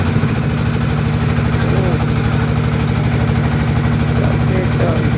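A speedboat engine runs steadily on the river heading toward Bholaganj, a loud, continuous low throbbing drone with a rhythmic pulse and no pauses.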